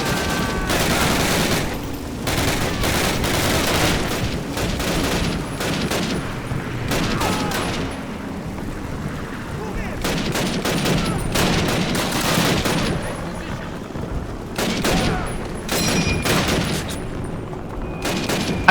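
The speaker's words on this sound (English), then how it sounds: "Remember, you have a submachine gun" Bursts of submachine gun fire from Call of Duty crackle in repeated loud volleys, separated by short gaps across the span, close and dominant with little else heard.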